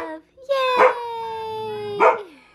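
Two sharp dog barks ring out close by, about a second apart, with a drawn-out sung voice held between and after them.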